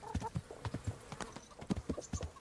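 A horse's hooves clip-clop in a quick, steady rhythm in the medieval video game Kingdom Come: Deliverance, close and clear, with a faint snort or whinny in the background and no talking.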